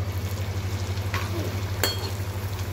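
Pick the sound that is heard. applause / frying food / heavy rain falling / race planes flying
frying food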